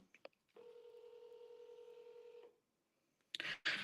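An outgoing phone call rings back with one steady, even tone lasting about two seconds. Silence follows, then a short burst of noise at the end.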